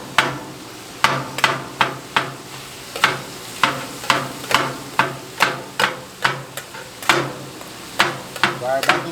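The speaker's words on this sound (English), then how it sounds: "So what I'm doing now is I'm just chopping up the meat." Metal spatulas chopping meat for Philly cheesesteaks on a Blackstone griddle: a steady series of sharp, loud metallic clacks at roughly two per second over a constant sizzle, with no talking.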